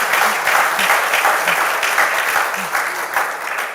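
A studio audience claps steadily in several loose bursts of applause, filling the room at close range.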